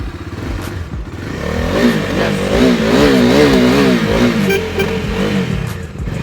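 A 2020 250cc motorcycle engine starts and revs up close and loud, its pitch climbing and falling in repeated throttle blips over a steady idle, with no talking.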